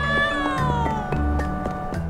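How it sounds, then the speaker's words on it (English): A cat meowing in the Trials of Mana video game, a long drawn-out tonal meow that slides downward, heard over game background sounds and light ticking. "Kitty cat!"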